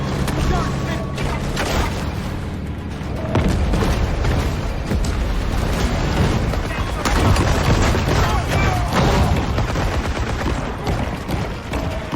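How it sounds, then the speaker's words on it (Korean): Bomb blasts during a shark attack in the video game Maneater, a sustained barrage of heavy booms and gunfire-like cracks rumbling loudly throughout, with a voice speaking over it. "이거 폭탄 아니냐?"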